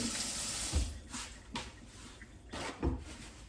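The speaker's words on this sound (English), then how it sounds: "I'm gonna rinse my washcloth that has the egg in" A washcloth with raw egg on it is rinsed under a running kitchen tap, a steady splashing water stream with a few louder knocks and swishes as the cloth is squeezed, and no talking.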